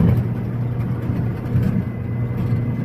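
A car engine labours at low revs in first gear up the steep Kozlukha climb in Altai, a steady deep drone with slight surges, close and continuous with no talk.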